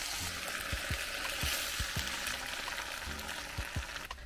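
Spicy chorizo tomato pasta sizzles steadily in a pan inside a van while being stirred, with a series of soft scraping strokes and clinks repeating through the frying hiss; no voices.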